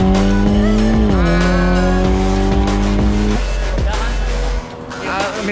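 A Mitsubishi Lancer Evolution X engine roars at high revs with steady harmonic whine, shifting pitch a few times before cutting off near the end, loud and close.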